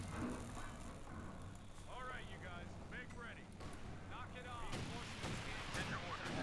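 Calliope rocket artillery firing a volley in the WWII strategy game Company of Heroes 2, a dense roll of launches and blasts with whistling streaks over constant battle noise and faint voices.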